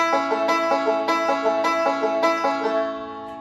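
Bright bluegrass banjo picking a steady backward roll pattern, evenly repeated notes played alone and close, fading out at the end.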